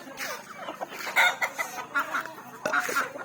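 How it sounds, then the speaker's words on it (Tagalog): Ducks in a backyard give a string of close, irregular quacks and clucking calls at moderate loudness, with no other sound standing out. "meron pa kami anong itik, naligaw"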